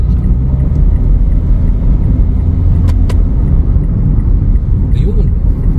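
A vehicle drives along a road in Santo Domingo, Nueva Ecija, and overtakes a tricycle, with loud, steady engine and tyre rumble close up throughout and a couple of brief clicks.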